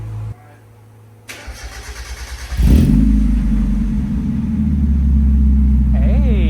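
A Mazda Miata with an ISR stainless catback exhaust cranks over with a rapid starter whir, then fires into a loud, deep, rumbling idle that settles and stays steady. A voice speaks briefly over the engine near the end.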